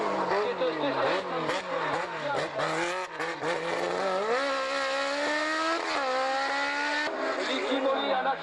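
Race car number 9 screams past at a hill-climb event, its engine note rising and falling through gear changes as it speeds by, loud and continuous with an announcer commentating over it.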